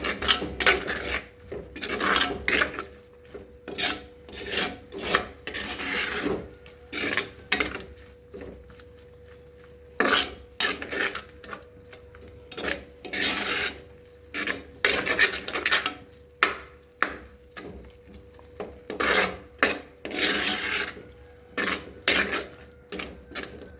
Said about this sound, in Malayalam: നല്ലപോലെ ഇളക്കി യോജിപ്പിച്ച് കൊടുക്കാം.